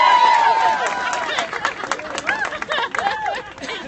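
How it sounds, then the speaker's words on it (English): At a rally in support of the Lawrence mayor against a recall, a crowd applauds and cheers, mixed with babble and shouting, loudest at the start and fluctuating. "About a round of applause for Lisa, keeping us all excited."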